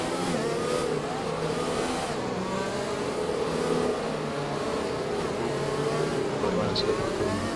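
Racing cars at the ABR Tier 1 Vietnam Grand Prix accelerate away behind the safety car at a restart, a dense, steady roar of engines sustained throughout, loud and close, with no clear voices over it.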